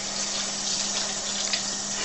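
Tap water running steadily into a sink while raw tripe is rinsed, a soft continuous hiss and splash at moderate distance with a low steady hum beneath.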